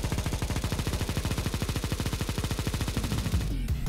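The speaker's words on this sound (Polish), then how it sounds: "znowu zmieniono odgłos tej broni i Negev wtedy brzmiał tak" Negev machine gun firing in Counter-Strike, a loud, unbroken stream of rapid, evenly spaced shots for several seconds before it cuts off abruptly near the end.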